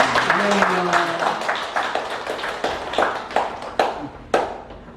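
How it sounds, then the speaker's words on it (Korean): Applause from a church congregation at a Sunday service, starting dense and gradually thinning into scattered individual claps that trail off. "우리 환영한 박수 함께 하겠습니다"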